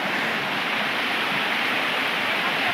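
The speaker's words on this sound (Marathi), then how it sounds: "सुंदर असा इथे धबधबा आहे." Kelwa waterfall in Palghar roars as a steady, dense wash of falling water, continuous and fairly loud with no voices over it.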